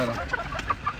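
Egg-laying hens at a poultry farm cluck in short, scattered bursts close by, a few quick calls over a low background murmur.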